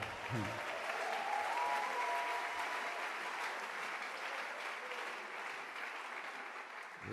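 A church congregation clapping and cheering in praise, a dense continuous roar of many hands that holds steady throughout, somewhat distant and filling the room.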